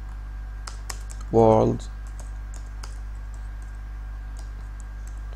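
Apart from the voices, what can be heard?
typing on a computer keyboard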